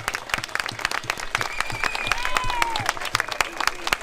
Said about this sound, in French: Applaudissements aux médecins courageux,